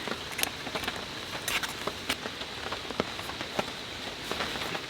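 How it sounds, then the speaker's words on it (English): Rain falls steadily on a solo campsite, a continuous soft hiss with scattered sharper drop taps against nearby surfaces, moderately loud and without talk. "As you all can hear, it is raining nicely."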